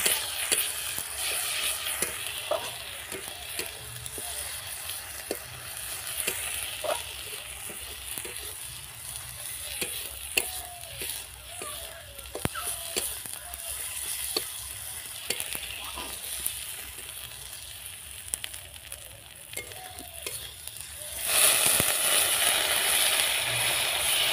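Turmeric powder frying in a pan for a fish curry, a steady broadband sizzle with frequent light spoon scrapes and stirring clicks, growing louder and brighter near the end; no talking.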